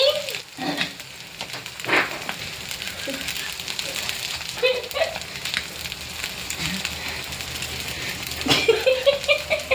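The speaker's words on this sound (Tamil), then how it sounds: "ஓகே ஃப்ரெண்ட்ஸ், ஆனியன் தோசை ஊற்றியாச்சு" Onion dosa batter sizzles on a hot pan, a continuous crackling fry with occasional louder clinks and scrapes of utensils. A voice talks faintly in the background.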